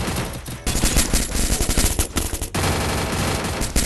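Mini Uzi gunfire from the Free Fire video game rattles in dense, loud automatic bursts with a short gap near the middle, continuous and harsh throughout.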